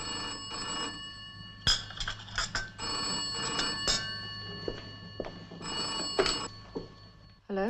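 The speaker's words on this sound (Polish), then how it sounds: "Zaczekasz, a ja zadzwonię do pani Elshaw." A telephone rings with a bright, buzzing bell in several bursts, interspersed with mechanical clicks and rattles from the handset or dial, heard fairly close in a quiet room.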